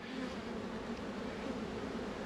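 Honey bees swarm and buzz steadily around a busy beehive stacked with five supers during a heavy nectar flow, a dense, continuous drone close to the hives with no voices.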